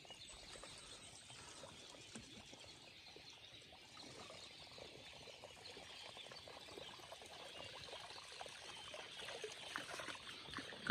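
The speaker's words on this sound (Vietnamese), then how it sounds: "nước chảy róc rách này." Mountain stream water trickling and babbling near a hillside camp and cinnamon garden, a steady, soft, continuous patter heard alone at low volume.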